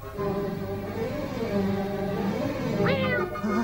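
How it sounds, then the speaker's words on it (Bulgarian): Several cats meow in a steady indoor scene, one rising cry standing out near the end over continuous low background sound, with no talk. "Не, котка е."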